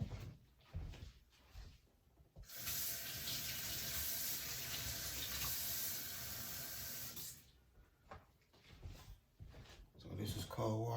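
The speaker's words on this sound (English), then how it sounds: "Add a little water to it." Cold water runs from a kitchen tap into a pan while cooking lamb, a loud steady gush lasting several seconds, preceded and followed by quieter handling noises and brief clatter.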